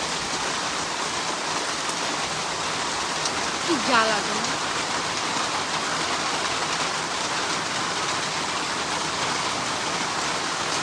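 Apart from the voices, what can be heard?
rain falling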